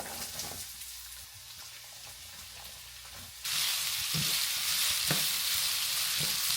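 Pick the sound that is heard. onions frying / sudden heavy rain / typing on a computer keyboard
onions frying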